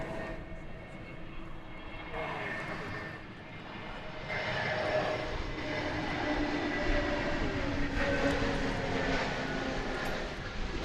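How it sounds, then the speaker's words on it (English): An Airbus A321neo airliner arriving at DFW Airport, its engine roar building steadily and growing louder through the second half at a moderate distance. "It's an A321neo arriving from Phoenix, Arizona, flight 569."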